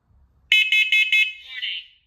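A battery-powered smoke and carbon monoxide alarm sounding in test mode gives four loud, close, shrill evenly spaced beeps and then a falling electronic warble, with no talking.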